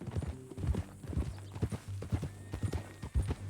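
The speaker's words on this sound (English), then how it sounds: "That new horse?" Horse hooves clip-clop steadily on the ground in the Red Dead Redemption 2 video game, a close, even rhythm of sharp hoof beats over a low, constant hum.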